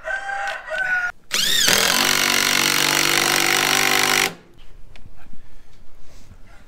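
A power drill drives screws into a board on a windy day, one continuous loud whirring run of about three seconds, heard alone with quieter sounds before and after.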